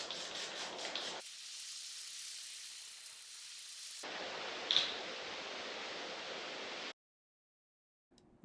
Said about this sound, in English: got my water here. Just start spraying.